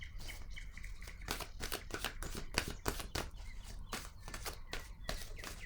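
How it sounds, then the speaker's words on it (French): A card is drawn from a deck and handled, producing a quick series of crisp papery rustles and soft snaps, close and fairly quiet, with no voice. "Je vais piger une autre carte."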